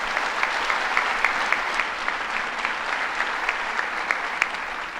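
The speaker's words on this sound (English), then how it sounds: "Let's give him a round of applause." An audience at a governor's public announcement applauds steadily, a bright, even wash of many hands clapping for several seconds with no talk over it.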